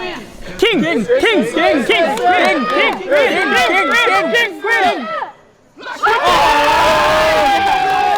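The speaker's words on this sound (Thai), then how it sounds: "ทุกครั้งที่มีการโชว์ดาวกันก็เสียงกรี๊ดก็ เฮฮาก็ดังกันตลอดเวลา" A large crowd at a poker event screams and cheers loudly and continuously, dropping off briefly before erupting again into high-pitched shrieks.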